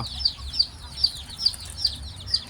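Backyard chickens cluck inside a coop on a small farm, short sharp calls repeating at a steady rhythm of roughly two per second, moderately close, over a low background rumble.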